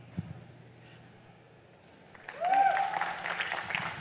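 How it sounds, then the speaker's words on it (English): At the opening ceremony of the CMPL Expo in Mumbai, an audience breaks into applause after a quiet lull, the clapping swelling midway and carrying on fairly loud to the end. "a huge round of applause to Shri Bhogilal Patel ji"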